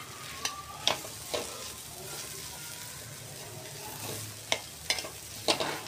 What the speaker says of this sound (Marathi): थोडा वेळ असंच परतवून घेऊया.